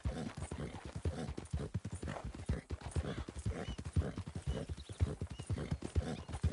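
Horse hooves clip-clop steadily in the video game Red Dead Redemption 2, a close, rhythmic run of hoofbeats at a brisk walk that continues throughout without pause.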